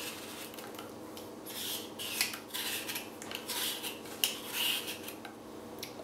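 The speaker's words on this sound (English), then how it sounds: "Peel the squash using a vegetable hand peeler." An acorn squash being peeled by hand with a vegetable peeler: repeated rough scraping strokes in quick, uneven succession, close and fairly quiet, with no talking.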